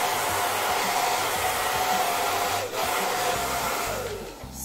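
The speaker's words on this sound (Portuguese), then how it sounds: "Posso bater o secador agora pra secar, gente?" A hair dryer blows loud and steady at close range throughout, a continuous broad whoosh with a faint motor whine and a brief dip near the end.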